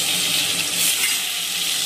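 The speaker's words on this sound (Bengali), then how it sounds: "আর এই যে বেগুন ভাজা এখন হচ্ছে," Eggplant slices frying in oil for a breakfast of luchi and begun bhaja, a loud, dense, steady sizzle heard up close with no talking.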